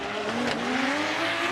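Formula Drift Japan drift car at speed, tires squealing in a long rising howl over a loud, steady engine roar, continuous and fairly close with no voices.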